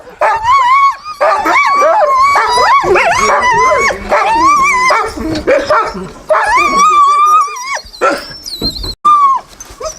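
Several sled dogs by their truck at a sled dog race, barking, yipping, whimpering and howling loudly and up close in overlapping bursts that barely let up.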